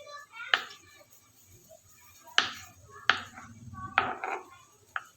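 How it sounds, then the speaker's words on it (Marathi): A knife cuts fresh paneer into pieces on a board, giving five or six sharp, separate chopping knocks at uneven intervals, close and clear, with a faint murmur in the background. "हे बघा, अशा प्रकारे मी पूर्ण पनीर आता कट करून घेणार आहे"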